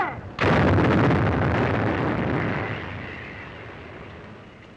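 An artillery gun fires one heavy, booming shot after brief quiet, its loud blast decaying slowly into a long rumbling tail as the tube recoils and returns to battery.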